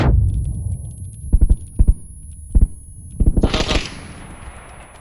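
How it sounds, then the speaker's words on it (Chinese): Gunfire in a first-person shooter video game: several separate bursts of two to four sharp shots each, loud and close, followed by a brief bright swishing rush, with no talk over them. "有人开枪啊"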